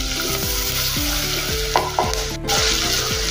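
Finely chopped green chillies going into a hot pan, with continuous loud sizzling frying and repeated stirring scrapes, a couple of sharp clinks of a spoon against the pan, no talk.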